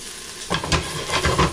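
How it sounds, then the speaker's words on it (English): Sazon being stirred into a pot of sizzling sopa de salchichon, a steady hiss of frying with a few scraping stir strokes and light utensil clatter, close and moderately loud, no talking. "So some sazon. Give it a quick stir."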